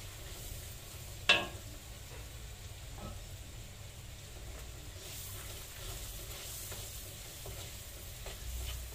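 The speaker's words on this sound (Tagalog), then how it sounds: "Lagay na natin yung bawang." Garlic fries in a pan for buttered garlic crab, making a faint, even sizzle with soft stirring. A single sharp clink sounds near the start, and the whole scene stays quiet, with no talk.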